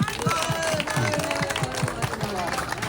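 A church congregation claps along at a seventh anniversary celebration as a cake is cut, with steady rhythmic hand claps close by under murmuring voices and background chatter.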